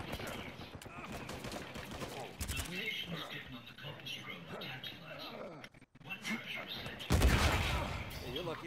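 Automatic machine gun fire in a dogfight video game, rapid bursts running through the clip with a louder blast near the end, mixed with game effects and players talking over it.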